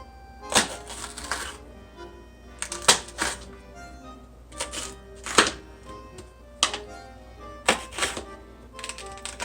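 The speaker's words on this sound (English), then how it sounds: "Smash it down on the plate, cut it into strips one way." A knife dices a vegetable into strips on a plate, with clusters of crisp, sharp chopping taps striking the plate in quick bursts separated by short pauses, close and clear.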